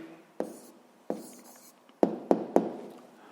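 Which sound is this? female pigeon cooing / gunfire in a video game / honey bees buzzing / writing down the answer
writing down the answer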